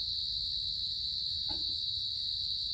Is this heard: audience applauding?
no